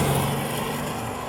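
A 2025 Porsche Cayenne GTS V8 with a center exit exhaust gives a steady, moderately loud low engine drone, heard continuously and alone without any talk.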